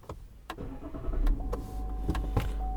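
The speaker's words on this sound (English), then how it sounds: "I'm gonna go ahead and fire her up now." A Duramax 3.0 diesel truck engine cranks and catches after a fuel filter change, with clicks and a rising rumble that settles into a steady idle close by.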